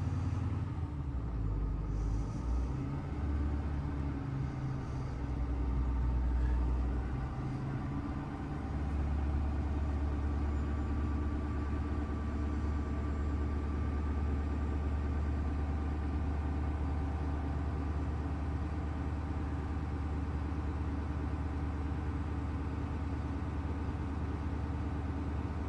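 A heavy truck engine idles steadily for the whole stretch as its air brake pressure builds toward governor cutoff, a deep constant low rumble with a brief louder surge early on and no talk.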